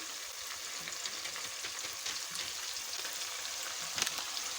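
Beef frying with Shan nihari masala in a pan gives a steady, fairly quiet sizzle with a few light stirring scrapes and no talking.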